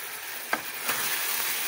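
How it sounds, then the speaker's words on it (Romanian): Peas and carrots hitting a hot frying pan for a stew with heart, liver and turkey sausage, a steady close hiss of sizzling with two soft knocks as the vegetables tip in. "am să pun și mazărea cu morcov și am să le torn aici în tigaie"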